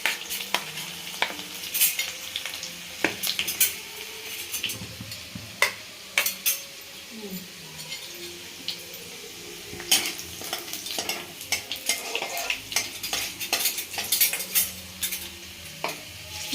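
Chopped garlic, ginger and cumin frying in oil before onion goes in, a continuous sizzle broken by repeated scrapes and clinks of a spoon stirring against the pan.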